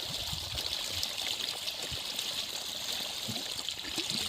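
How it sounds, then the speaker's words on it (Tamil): Water gushes steadily from a 3-inch pipe fed by an 1100 W BLDC motor pump in a farm field, a loud continuous broadband rush with no pauses and no voices. "மூணு இன்ச் பைப்பு தண்ணி நல்லா அருமையாக வந்துக்கிட்டு இருக்குது"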